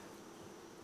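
Honey bees buzz steadily in and around an open hive during an inspection, a dense continuous hum close by with no pauses.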